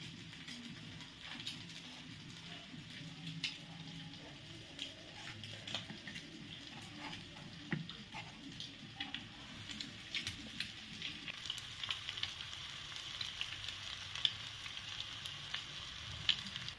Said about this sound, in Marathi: अशी मच्छीला रवा लावणं झाल्यावरती याच्यामध्ये फ्राय करायला सोडून द्यायची आणि मध्यम आचेवरती